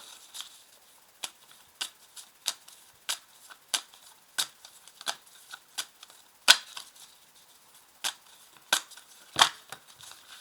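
Tarot cards being shuffled by hand, with soft, crisp riffling snaps repeating at a steady rhythm for about ten seconds, close and fairly quiet, with no voices.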